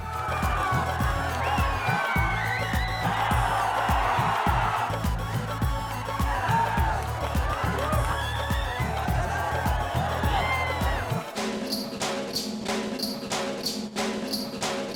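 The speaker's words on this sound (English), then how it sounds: "he steps out to wave to the cheering crowd" A crowd of fans cheers and whoops outside a Bollywood film star's home in Mumbai, a loud, continuous roar with shouts rising over it that gives way near the end to a different, rhythmic passage.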